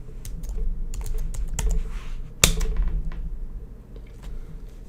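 Fingers tap on a computer keyboard in close, irregular clusters of crisp clicks, with one sharper knock midway, over a low room hum and no talk.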